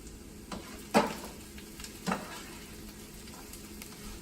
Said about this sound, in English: Let's go stir those onions real quick.